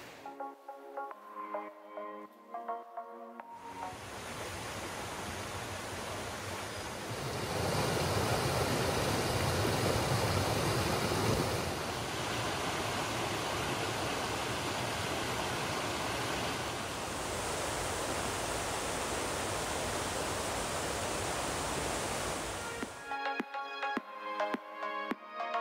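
A river with waterfalls along the Appalachian Trail in Connecticut rushes in a steady, broad roar, loud and close for about twenty seconds, framed by brief music at the start and end.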